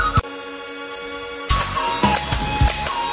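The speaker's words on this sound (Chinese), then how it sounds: "启动连发模式" A camouflage M416 toy soft-dart blaster runs in burst mode, giving a loud, continuous mechanical whirring and clattering that starts abruptly and carries on with rapid rattling bursts, heard alone.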